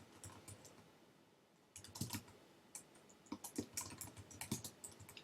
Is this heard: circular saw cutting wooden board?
no